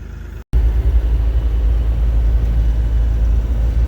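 A Bobcat E42 R-series mini excavator engine runs at a steady loud low rumble after a brief cut near the start, on a rural demolition site in Southern Illinois.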